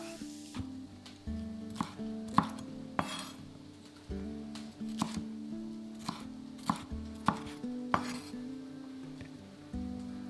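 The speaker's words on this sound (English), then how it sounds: "Now we're going to chop a red and yellow pepper and add them to the pan." Red and yellow bell peppers are chopped with a knife on a cutting board, giving a run of sharp, irregular chops at close range over faint background music, with no one speaking.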